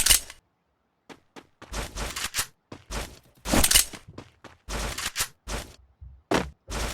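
Gunfire in a custom video game match, heard as repeated loud, close bursts of rapid shots separated by short pauses, with no talking.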